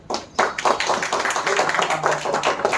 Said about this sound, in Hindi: काले साहब के लिए जरा जोरदार तालियां बजाएं।